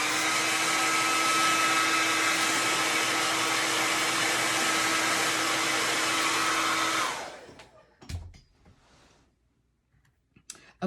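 A handheld hair dryer blows steadily and loud on wet paint on an ice cream cone painting for about seven seconds, then switches off, leaving a few faint clicks and handling noises.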